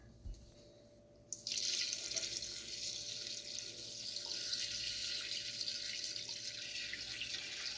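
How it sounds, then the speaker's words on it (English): Water runs steadily from a tap into a pot of peppers for enchilada sauce, a broad hissing pour that starts abruptly after a moment of quiet and continues without pause. "So I'm gonna keep adding water."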